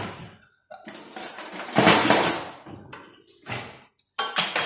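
Spoons clinking and scraping against dishes while lasagna is assembled with cheese sauce, a few bursts of close, bright clatter separated by short pauses.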